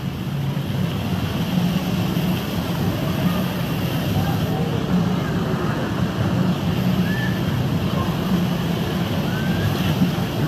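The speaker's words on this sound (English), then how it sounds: "And here comes the waves." Steady broad wash of waves rolling through a water park wave pool in about two feet of water, continuous and loud with a low rumbling body throughout.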